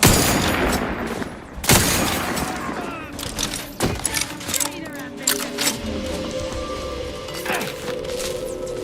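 Gunfire in The Outer Worlds 2 video game: sharp loud shots and bursts cracking irregularly amid battle noise, with a voice speaking over the action.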